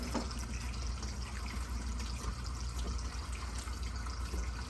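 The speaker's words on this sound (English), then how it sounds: "so I keep wetting my hand with warm water" Warm water splashes and trickles steadily over a hand while whole rye sourdough dough is being kneaded and folded, a close, continuous wet sound with no talking.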